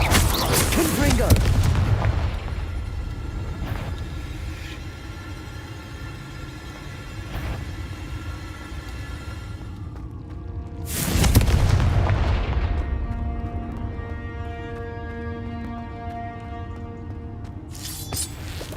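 Two loud, booming spell blasts from the Confringo fire spell in the Hogwarts Legacy video game, each a sharp burst with a lingering ringing tail, the first near the start and the second about ten seconds later, over a steady game soundscape.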